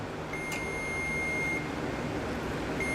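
Continuous steady beep from a multimeter's continuity tester, probed across a faulty fuel gauge sending unit from a 2004 Mercury Marquis, holding one tone for the full three seconds with a faint background hum.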